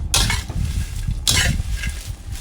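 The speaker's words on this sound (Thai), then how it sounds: "ทำให้มัน เข้ากันได้ดียิ่งขึ้นก็พลิกกระทะแบบนี้" Dried chili being tossed and stir-fried in a frying pan with kaffir lime leaves, two close scraping swooshes of the food sliding and landing in the pan, with a faint sizzle underneath.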